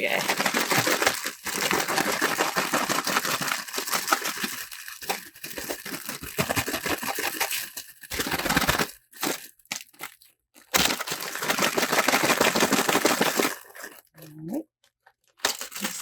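A plastic zip bag holding polymer clay and mica powder is shaken hard in bursts, giving loud crinkling and rustling rattles broken by brief silent gaps.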